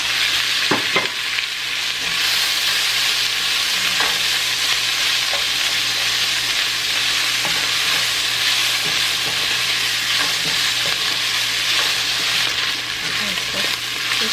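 Ground pork frying in a pan gives off a constant loud sizzle, with occasional scrapes and stirring clatter throughout and almost no voice.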